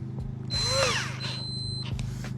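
A cordless power drill whirs up briefly in two short bursts, its motor pitch rising and falling, close and fairly loud with no talking.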